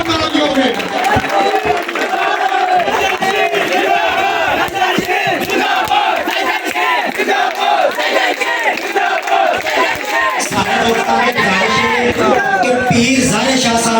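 A dense crowd at a PML-N political rally in a school ground roars and chants continuously, loud and close, with voices shouting over the sustained cheering.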